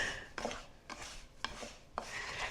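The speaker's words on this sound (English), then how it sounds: "let me get in here with my hands and finish mixing this together" Hands work sourdough coffee cake crumb topping together in a bowl, with four evenly spaced gritty, rasping rubs of buttery crumbs against the sides, close and soft, no voices.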